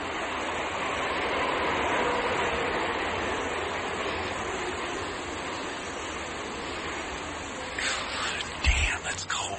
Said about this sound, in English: Now, here comes a subway train below me.